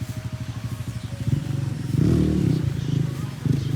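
A Suzuki RM250 dirt bike engine idles in a steady, pulsing putter, then revs up louder around the middle before settling back, close by with someone talking over it.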